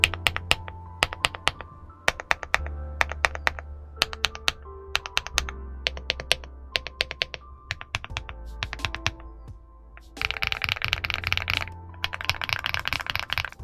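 Close-up typing on an Aula F99 mechanical keyboard, a steady run of soft, creamy clicks and thocks, with a faster, denser burst of keystrokes toward the end and no talking.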